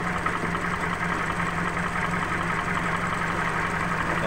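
An automatic scooter engine running in drive gear after being filled with the wrong transmission oil, giving a steady, even mechanical hum and whir with no speech over it.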